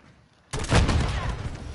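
Gunfire erupts suddenly in the video game Call of Duty Modern Warfare 3 after a quiet moment, a loud, dense burst of rapid shots and booms that keeps rumbling.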